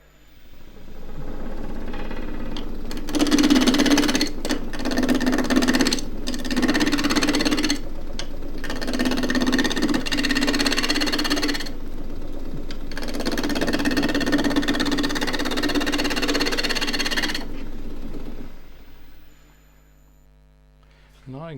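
Wood lathe spinning a block being turned into a race car shape, cut with a gouge in long continuous bursts of humming and rasping, pausing briefly between passes.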